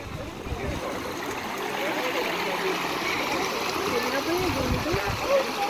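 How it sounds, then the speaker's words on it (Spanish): A river in the Picos de Europa, Cantabria, rushes in a steady, moderate flow of water, heard outdoors with people talking over it. "Mira el río."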